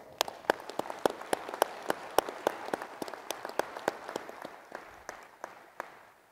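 Sparse applause from a small audience at a National Guard conference address, individual claps standing out distinctly in an uneven rhythm, fairly close, tapering off toward the end.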